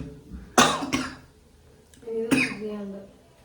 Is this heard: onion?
no